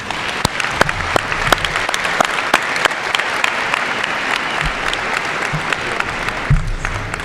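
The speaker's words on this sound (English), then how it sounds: "Can we give them a round of applause?" Sustained crowd applause fills a high school graduation ceremony in a stadium, steady and dense throughout with a brief swell near the end.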